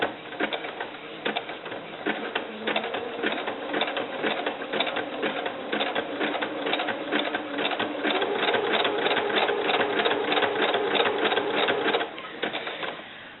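Sewing machine zigzag stitching bias tape on a doll bra, a rapid steady mechanical chatter that runs continuously for several seconds at close range, quickening slightly near the end before stopping.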